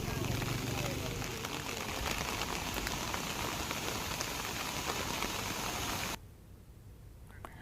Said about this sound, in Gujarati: આજે પણ ભારે વરસાદને કારણે પાણી ભરાઈ જતા